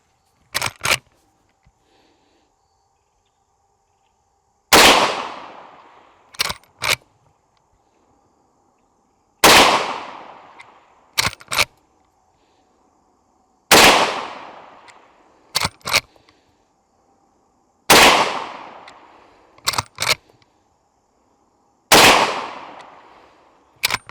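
Henry carbine in .327 Federal Magnum fired six times at roughly four-second intervals, each sharp loud report ringing out briefly, followed by fainter clicks and clatter of the lever action between shots.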